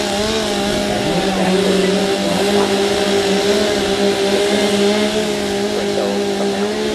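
Lumberjack chainsaws rev in warm-up at a fairground lumberjack show, producing a loud, continuous, droning engine whine that holds steady throughout.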